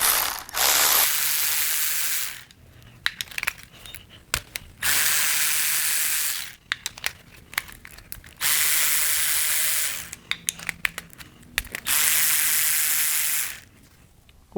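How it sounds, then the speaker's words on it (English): A ratchet loosens spark plugs from a Honda K20Z3 engine in four close, rapid clicking bursts, each a couple of seconds long, separated by quieter handling and clinks. "the first thing we're going to do is pull the spark plugs out"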